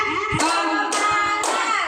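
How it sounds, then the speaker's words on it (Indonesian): Several sharp hand claps land at an even pace, loud and close, over a dense background of voices, as a group claps along to a count. "kita tepuk-tepuk lagi sekali lagi biar tambah semangat"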